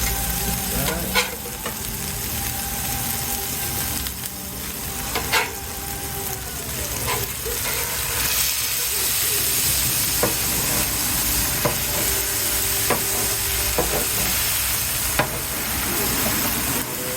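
Smashburgers frying on a griddle, a continuous close sizzle and hiss of fat with scattered scraping and tapping of a spatula on the metal surface throughout.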